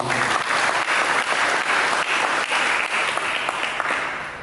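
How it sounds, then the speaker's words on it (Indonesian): A church congregation at GBI Harmoni breaks into loud, dense applause during a sermon, many hands clapping together in a continuous roar that fades slightly at the close. "Kita berikan tepuk tangan"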